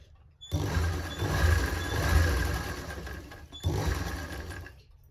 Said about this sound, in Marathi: सगळीकडून स्ट्रेट शिलाई करून घ्यायची आहे